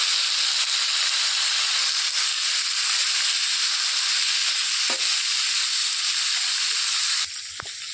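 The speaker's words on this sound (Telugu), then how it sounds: "ఇందులోనికి టమాటా ముక్కలు కూడా వేసేసుకొని వేయించుకోవాలి" Onion and tomato pieces frying in a pan: a loud, continuous close hiss of sizzling oil with a faint knock or two, easing slightly near the end, and no speech.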